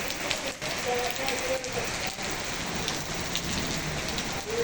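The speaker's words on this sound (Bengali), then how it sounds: "ঝড় বৃষ্টির মধ্যে" Storm rain with wind at Pakutia Bazar, Nagarpur, Tangail, Bangladesh, falls steadily and loudly in a continuous hiss, with gusty surges and a faint voice briefly under the downpour.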